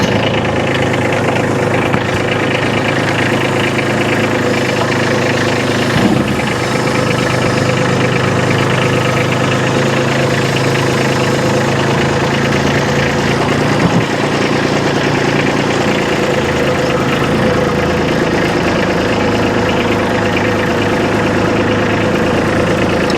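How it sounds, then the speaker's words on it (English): A Kubota B2601 compact tractor's engine runs steadily at close range, a loud, even, rumbling idle with a constant throb that carries on for the whole stretch without any talking. "I'll fire up the tractor here"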